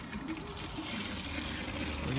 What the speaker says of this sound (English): it sounds like it's letting water in now